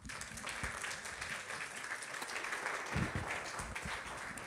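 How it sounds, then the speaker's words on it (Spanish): Congregation applause at a live church service welcoming the pastor, a steady wash of clapping filling the room for several seconds with some low rumble and faint voices mixed in. "con un fuerte aplauso"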